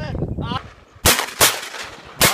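Shotgun blasts during a duck hunt in Pakistan: three sharp, loud, broadband shots in quick succession, following excited shouting from nearby hunters.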